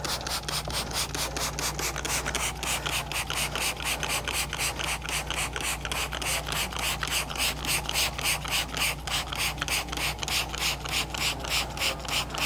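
Rapid, regular bursts of spraying from a trigger bottle onto carpet, a rhythmic hiss-click repeated dozens of times over a low steady hum.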